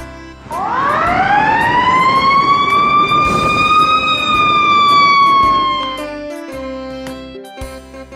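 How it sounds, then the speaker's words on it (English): White ambulance siren wailing loudly and alone, a rising wail that holds steady for several seconds before fading out, like a single passing emergency vehicle close by. "White ambulance."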